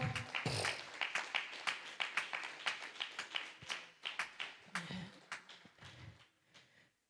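Clapping from a church congregation during a Spanish-language worship service, a run of sharp, uneven hand claps at moderate distance that thins out and fades toward the end, with a faint voice in the background.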